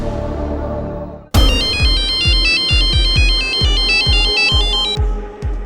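Electronic phone ringtone playing a repeating bright melody over a rhythmic beat, loud and close, starting abruptly after a moment of quiet in a Crime Patrol crime drama scene.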